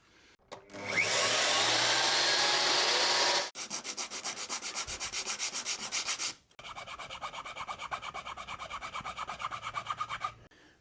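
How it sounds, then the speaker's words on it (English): Engineering timber being cut with a power tool: a loud, harsh continuous grinding burst for about three seconds, then two longer stretches of steady rhythmic rasping strokes, close and alone with no talk. "So I need to cut a little bit of this engineering timber to fit in here now."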